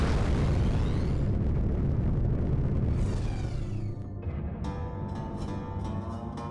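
A missile explosion booms loudly in the space game Rebel Galaxy Outlaw, with a heavy roaring rumble that slowly fades into crackling debris and a lingering low drone.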